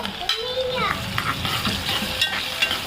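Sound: onion and tomato frying in a pan

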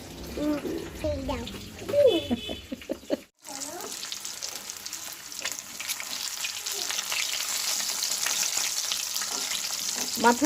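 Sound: fish (pomfret, folui) frying in a pan

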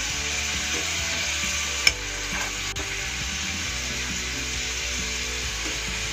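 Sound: paneer frying in oil in a pan

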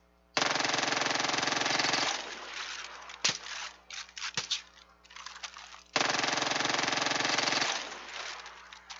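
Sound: gunfire shooting barrels in video game Far Cry 5

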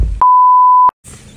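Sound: censor beep sound effect

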